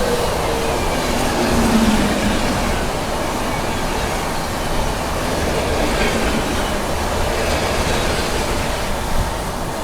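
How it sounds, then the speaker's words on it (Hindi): The oncoming New Delhi–Dr Ambedkar Nagar Superfast Express rushes past an Indian express train in a steady, loud rumble of wheels and rushing air, with no voices. "तो सामने से आ रही है आप लोगों की न्यू दिल्ली डॉक्टर अंबेडकर नगर"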